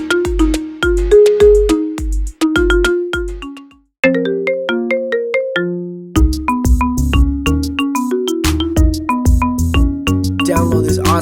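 A bright synthesized ringtone of a song plays a plucky, bell-like melody in repeated loud phrases with a short pause midway, alone and up close.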